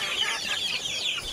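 Chickens cluck steadily nearby, a busy overlapping chatter from several birds with no talking.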